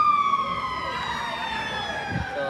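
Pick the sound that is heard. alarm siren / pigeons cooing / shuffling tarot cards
alarm siren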